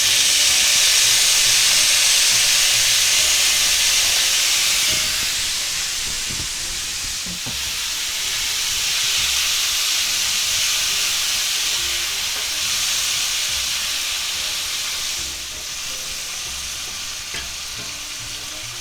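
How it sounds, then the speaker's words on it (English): Red and green peppers with onions stir-fry in a cast iron skillet, a loud continuous sizzle and steamy hiss that eases midway, with periodic clanks and scrapes of stirring nearby. "we're going to just go ahead and stir fry some of our peppers, onions, and green peppers"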